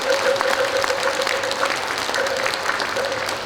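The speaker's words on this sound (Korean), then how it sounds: "우리 마음공 큰 스님에게 큰 박수 좀 한번 보내주십시오." Applause from a ceremony audience at a Buddhist coronation, a steady, dense wash of many hands clapping at close range with no voices over it, holding loud and even throughout.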